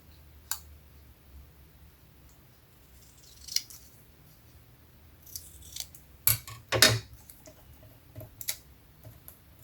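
Scissors snipping a fabric scrap for a patchwork ATC card, a few faint, sharp cuts spread out over a quiet background, with a closer cluster of snips near the middle.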